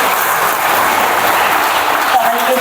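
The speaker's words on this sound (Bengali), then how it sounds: "জোরে তালি," Loud, steady applause fills a gathering at a Christian healing retreat center in Nadia district, a dense wash of many hands clapping without pause for a few seconds.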